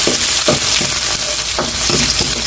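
Chili hits a hot pan and sizzles loudly and continuously, with repeated scraping stir strokes cutting through the frying hiss.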